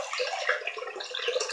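Warm water runs from a tap into a sink in a steady, close splashing hiss that continues without pause.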